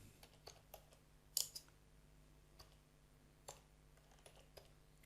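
Sparse, faint keystrokes on a computer keyboard while code is typed, a handful of light clicks scattered over a quiet room with one slightly sharper cluster of taps.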